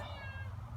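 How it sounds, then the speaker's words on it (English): A house cat gives a single short, soft meow close by in a quiet garden beside tomato plants. "That's my cat."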